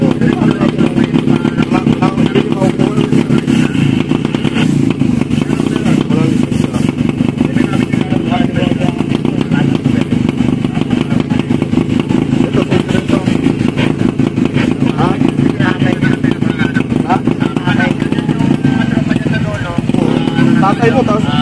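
A motorcycle engine runs continuously with a steady low rumble and rapid pulsing throughout, loud and close, while people talk over it.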